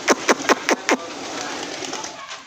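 Red checker pigeons coo in a short series of five quick, evenly spaced calls close by, followed by a softer, lingering murmur.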